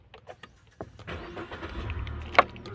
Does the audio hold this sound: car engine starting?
yes